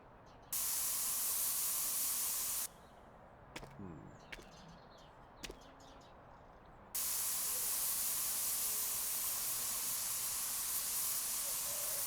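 Spray painting a car in Spray Paint Simulator, with long bursts of loud, steady aerosol hiss separated by a quieter gap holding a few short clicks and knocks, and no talking.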